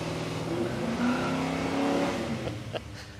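A drag racing car does a skid at Palmyra Raceway in Australia, a loud continuous engine roar with tonal whine that swells and fades over a few seconds, ending in a short burst of tire noise.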